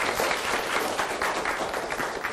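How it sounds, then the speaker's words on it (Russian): Audience applause in a hall after a speaker's introduction at a public talk, a dense steady wash of many hands clapping alone. "Ваш аплодисмент."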